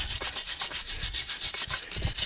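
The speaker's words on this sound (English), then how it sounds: "give the two caliper parts a good clean with a wire brush" Wire brush scrubbing corrosion off the two front brake caliper parts of a BMW 1 Series, a steady run of close, rhythmic rasping strokes with no talk.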